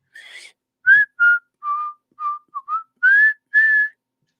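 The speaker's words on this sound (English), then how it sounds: "I hate whistling." A person whistles a short tune, about nine clear notes in a bouncy phrase, close and loud against silence with no talking.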